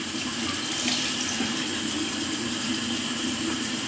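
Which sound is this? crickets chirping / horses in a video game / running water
running water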